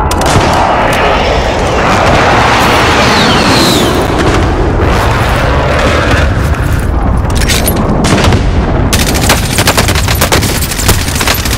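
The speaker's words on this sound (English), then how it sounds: "Friendly precision airstrike inbound." Heavy precision airstrike blasts and rattling gunfire in a combat video game, loud continuous booms and rumbling detonations layered with rapid machine-gun bursts, dense and close throughout.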